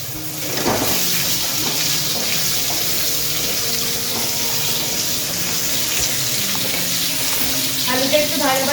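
Potatoes frying in hot oil with ridge gourd to follow, a steady close sizzle with stirring clinks and some watery splashing throughout, no voices.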